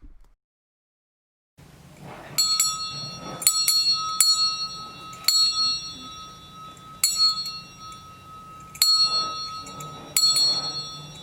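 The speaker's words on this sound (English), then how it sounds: "we thought it was appropriate to cleanse it one last time with a bell and cleansing smoke" A small hand bell is rung to cleanse a ritual oil alongside cleansing smoke. After a short silence it sounds about seven clear, ringing strikes, each tone lingering before the next.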